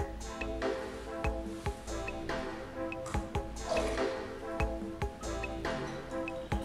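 Magnetic putty is worked by hand as small doses of solution are added, giving soft, wet squishing and dripping sounds up close over a faint steady background.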